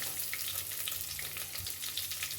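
Sliced onions fry with fennel seeds in hot sesame oil for a chicken gravy, giving a steady, even sizzle up close. There is no talk.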